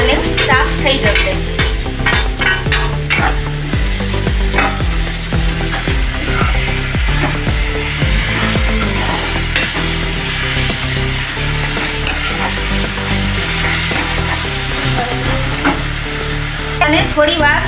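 Bottle gourd and cabbage sauté in oil in a pan, a steady loud sizzle with repeated stirring scrapes and clinks running throughout, no one talking.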